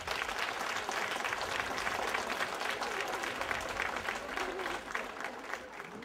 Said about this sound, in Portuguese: Uma salva de palmas para estas jovens.